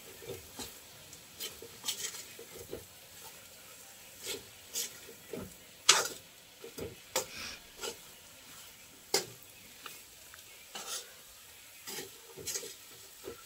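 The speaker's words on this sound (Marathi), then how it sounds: "मध्यम आचेवर वांगी परतून घेऊया." Stuffed eggplant sautéing in a pan over medium heat, giving a quiet low sizzle broken by intermittent scrapes and taps as the pieces are turned, faint and close.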